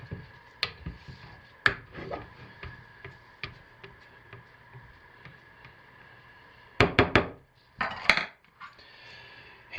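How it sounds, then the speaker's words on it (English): Cold process soap batter, rosewood and musk scented, being hand stirred and scraped around the sides of a container, giving irregular light knocks and clinks with a couple of louder scraping bursts near the end. "Hand stir this in to begin. Let me scrape the sides down"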